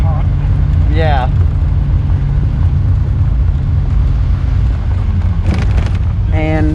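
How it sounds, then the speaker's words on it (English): Mazda Miata NA engine idling warm, a steady low rumble running throughout beneath wind noise, with brief higher squeaky sounds coming and going. "See how it idles hot."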